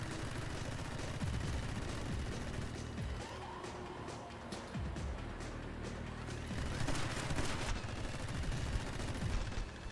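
Rapid machine gun fire in the video game My Friend Pedro, dense overlapping bursts and crackling shots over a busy background of game effects and music, loud and continuous.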